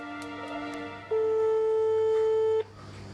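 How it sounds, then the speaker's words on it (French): A single steady telephone ringback tone sounds for about a second and a half over faint background hum while calling a phone number. "Mathieu va tenter de joindre le numéro de téléphone indiqué."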